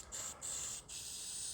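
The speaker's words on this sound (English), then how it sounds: "I think there's a drop left in one of these spray cans that I have." Faint, thin hiss from a nearly empty aerosol spray can in a workshop, sputtering in three short bursts separated by brief gaps, with no talking.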